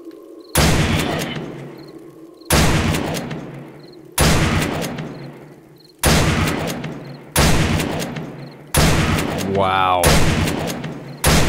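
A sawed-off shotgun fires in the 7 Days to Die video game, with six or seven loud, booming blasts spaced a second or two apart, each decaying quickly, and a brief voice reacting between shots.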